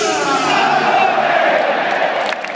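The Juventus Stadium crowd roars loudly and steadily as a player is celebrated at a title celebration, a massed, sustained cheering that eases slightly near the end.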